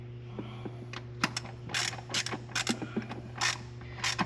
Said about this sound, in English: And I'm using a shorty ratchet, just make sure I don't over torque these.